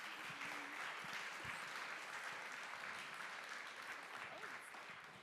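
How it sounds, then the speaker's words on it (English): An audience applauds the cast and crew of a film at a festival Q&A night, steady, dense clapping filling the room throughout with faint voices beneath. "let's give another round of applause for all these fantastic cast and crew of this film"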